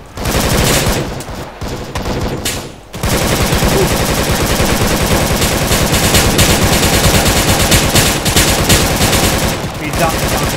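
Loud, sustained automatic gunfire in the video game Arma 3 during a fire-and-movement training exercise, dense bursts rattling almost nonstop with a brief lull near the start.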